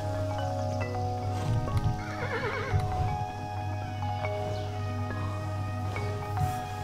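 A horse in the video game Kingdom New Lands gives a clear whinny, with faint clip-clop of hooves set against a steady game music and ambient backdrop, moderately quiet and without talking.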